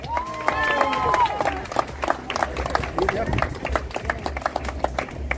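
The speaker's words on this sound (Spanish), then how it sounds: "Un aplauso, por favor." Close, lively applause with rhythmic clapping and scattered cheers breaks out at a community celebration crowning tía Dori as Churapa 2023, building and continuing under an announcer's amplified voice.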